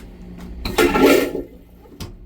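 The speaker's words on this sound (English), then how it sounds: "I'm gonna put a scoop in the head, and I'm going to flush it." A marine toilet on a boat flushes with one short, loud surge of rushing water that lasts about a second and then quickly fades.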